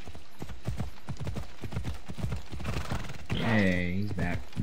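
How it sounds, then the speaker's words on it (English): Horse hooves clip-clop steadily in a video game, a quick rhythmic run of close, even hoofbeats that gives way near the end to a louder, drawn-out tonal cry. "Come on, horse, take your time."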